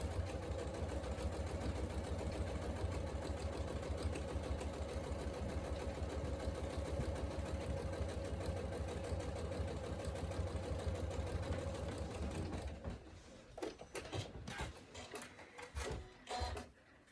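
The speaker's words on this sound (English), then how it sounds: "just going to do a straight stitch, but you can do a decorative stitch if you'd prefer" A domestic sewing machine runs a lengthened straight stitch on a workshop bag pocket in one continuous steady whir for about twelve seconds, then stops, followed by a few short clicks and handling noises.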